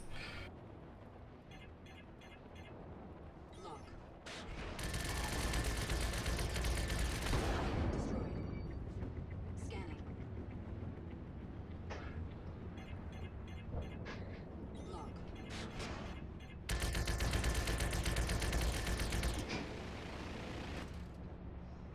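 Gatling guns fire in an aerial combat game, with two long, loud roaring bursts separated by quieter stretches of cockpit ambience, while voices talk over the action.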